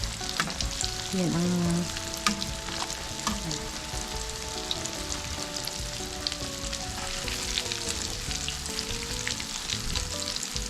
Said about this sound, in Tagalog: Yun lang, prito-prito lang.